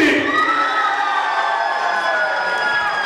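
A school hall audience cheers and shouts in support of a competing pair, a loud, dense roar of voices and whoops sustained throughout, close and enveloping.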